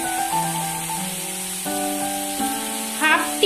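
Mourola fish fries in a pan with radish, eggplant and potato while being stirred, a steady soft sizzle beneath a prominent melody of sustained musical tones.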